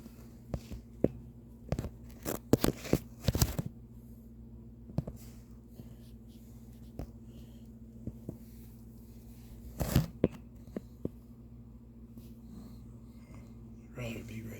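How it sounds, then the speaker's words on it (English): Heavy-duty flush cutters snip at a tangle wrapped in a bush hog rotary cutter, giving sharp isolated clicks and crunches in scattered bursts over a steady low hum, close to the microphone. "These are a heavy duty set of flush cutters to cut it out."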